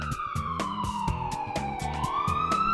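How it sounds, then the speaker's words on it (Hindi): A loud wailing police siren on a street sweeps slowly down and back up in pitch, with a rapid pulsing rhythm underneath, close and continuous throughout. "ये तो पुलिस की सायरन की आवाज है ना?"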